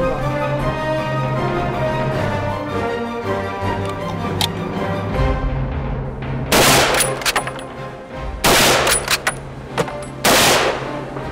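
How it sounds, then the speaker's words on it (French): Rifle shots fired at a running boar target during a shooting competition: several sharp, loud reports in separate clusters over a steady background hum. "6 balles à tirer sur 2 passages de sanglier"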